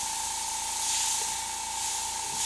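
Airbrush spraying paint strokes onto a skull design, giving a steady close hiss with a faint constant tone and no voices.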